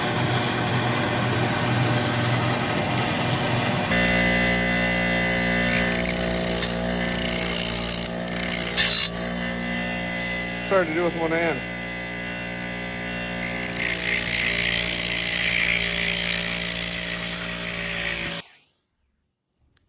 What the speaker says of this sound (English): I'm gonna take them off and put them over on the drill press